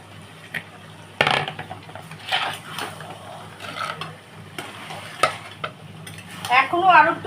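A katla fish head is stirred into a bottle gourd curry in a pan, giving scraping spoon strokes against metal over a soft simmering sizzle, close and fairly loud, with clinks of utensils and a brief bubbling burst near the end.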